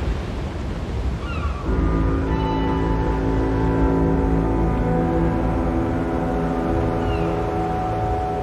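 Ocean waves wash steadily at sea in the video game Little Nightmares, a continuous broad surge joined midway by low droning tones, with no talking.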